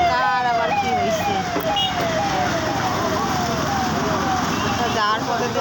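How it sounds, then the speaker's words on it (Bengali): An ambulance siren wails in repeated rising and falling sweeps as it passes along a busy road, loud and close over steady traffic rumble, fading slightly before returning near the end. "এই রাস্তায় যা আওয়াজ, কি আর দেখ, ওই যে গাড়ি ঘোড়া যাচ্ছে, ওই যে অ্যাম্বুলেন্স গেলে"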